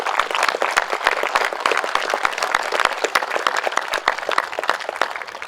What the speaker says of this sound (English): Could we please get a round of applause for them?